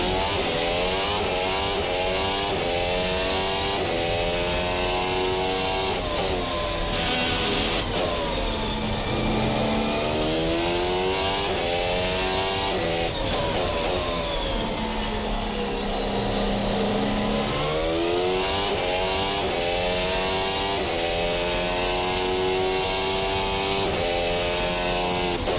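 A Formula Hybrid 2022 race car engine in a racing simulator screams at high revs with steady loudness, pitch sweeping up through gear changes and dropping on braking, running throughout.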